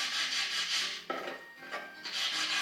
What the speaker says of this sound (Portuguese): aí você vai dar aquela lixada para dar uma alisada e tirar qualquer imperfeição